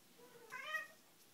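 A single short cat meow rises and falls in the middle of a quiet indoor moment, soft and fairly close.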